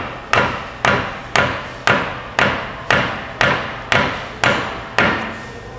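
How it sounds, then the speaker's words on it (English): Nine evenly spaced, sharp thuds from a dead blow hammer tapping a press-fit part into place on an engine swap, each hit close and solid with a short decay, no talking. "you can actually use a dead blow to tap it in"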